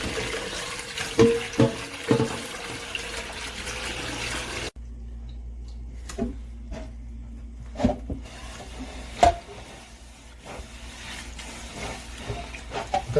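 A 28 cm scratch-resistant frying pan is rinsed under a running kitchen tap, with water splashing and then a quieter stretch broken by occasional knocks and clatter.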